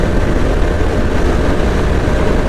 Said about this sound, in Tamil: இப்போ பைக்கு 5th கீரில் போயிட்டுருக்குங்க